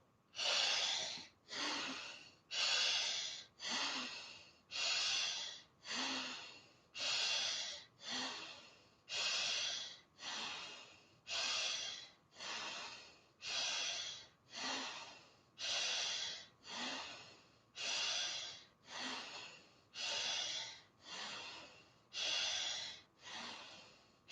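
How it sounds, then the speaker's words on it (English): Rapid bhastrika pranayama breathing drawn into the chest during a yoga session, a steady run of about twenty forceful, evenly spaced breaths with a sharp rushing hiss on each stroke, close and alone with no talk. "Exhale fully and holding the lower belly gently back. 15 breaths into the chest."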